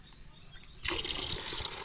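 Water is poured by the glass to measure it for mixing NPK fertilizer, boron and zinc spray for paddy; quiet dripping gives way to a steady, close splashing pour for the last second.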